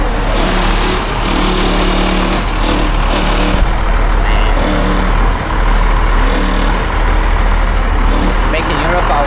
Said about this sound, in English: Those big truck is going after me.